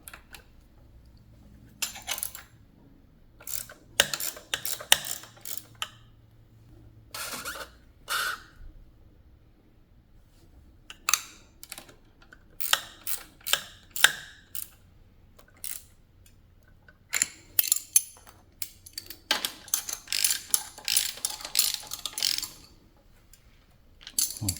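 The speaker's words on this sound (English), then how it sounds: "And now I will loosen the actual fork clamps and rotate the fork so our valve is in a convenient spot." A ratchet wrench loosens the fork clamps on a Honda motorcycle, clicking in quick bursts of rapid pawl ticks separated by quiet pauses, close and crisp over a faint background hum.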